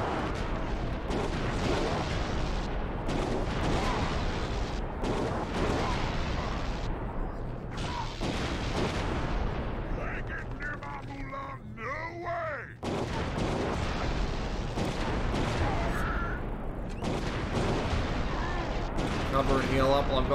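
Thud slug shots fired in the Oddworld: Stranger's Wrath HD game on Vita, heard as dense, loud bursts of impacts and booms that run almost without a break, with one short lull partway through.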